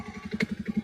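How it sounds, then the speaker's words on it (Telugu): A motorcycle starts close by and settles into a quick, even chug of engine pulses, brief and fairly quiet. "నా పక్కన బైక్ కూడా స్టార్ట్ అయింది"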